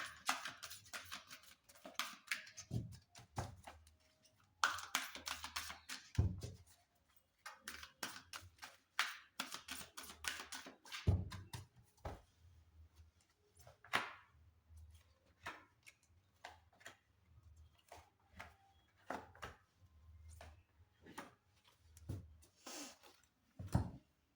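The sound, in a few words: shuffling tarot cards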